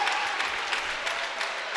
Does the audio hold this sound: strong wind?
no